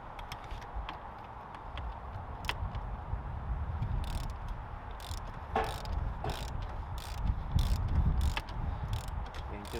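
Bolt cover being tightened while fitting a firmer spring on a high-performance ebike, giving a run of close mechanical ratchet-like clicks and scrapes over a steady low rumble, with no talk.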